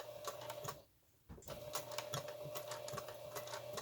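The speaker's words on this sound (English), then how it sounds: "And then I'm going to sew right down beside that wire." A home sewing machine stitching a fabric face mask right beside a wire nose piece, giving a quiet, rapid run of mechanical clicks that pauses briefly and then resumes at a steady pace.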